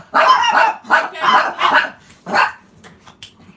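Dogs bark at a cat: a rapid run of loud, close barks and yips, then one last bark before trailing off into near quiet.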